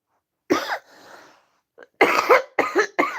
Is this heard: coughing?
yes